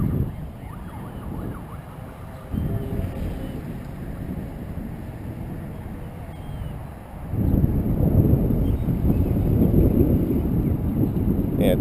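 Wind roars across an open field while a stretched delta kite flies, a constant broadband rush with gusts that strengthen toward the end, buffeting the microphone.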